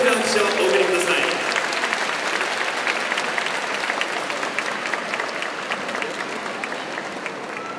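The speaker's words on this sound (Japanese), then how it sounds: "大きな拍手をお送りください" A crowd applauds at a tenth-anniversary celebration for the Akita Northern Happinets basketball team, sustained and loud at first and tapering a little over the clip, with voices mixed into the clapping.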